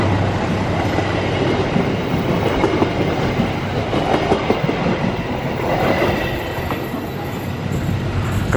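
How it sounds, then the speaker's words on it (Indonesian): Steady roar and clickety-clack of the Serayu passenger train rolling past nearby at Ciawi, Indonesia, loud and continuous throughout with no voices. "Pas lagi lewat di Ciawi bertemu dengan kereta serayu."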